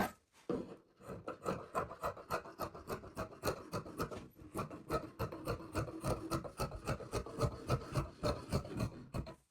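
Fabric being cut for a crossover hijab, heard as a fast, regular run of close rasping snips and rubs that carries on steadily with brief pauses.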